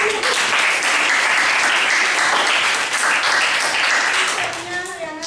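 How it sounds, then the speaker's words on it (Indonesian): Class participants applaud together in a classroom, a sustained burst of dense clapping that tapers off near the end, with children's voices mixed in. "Ternyata kasih tepuk tangan dulu."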